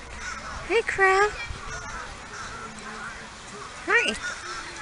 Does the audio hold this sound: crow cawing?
yes